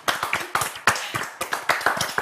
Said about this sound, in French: Moi, j'ai envie de vous applaudir.